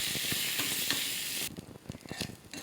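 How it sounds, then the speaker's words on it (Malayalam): Ginger, garlic and curry leaves stirred into hot oil in a pan for papaya kondattam sambar: a loud steady sizzle with rhythmic spatula scrapes, the hiss dropping abruptly midway as the stirring clatter continues, no talking. "ഇനി നമുക്കിതിലേക്ക് 2 ചെറിയ ഇഞ്ചിയും 2-3 വെളുത്തുള്ളിയും കുറച്ച് കറിവേപ്പിലയും ഇട്ട് കൊടുത്ത് ഒന്ന് മിക്സ് ചെയ്യാം."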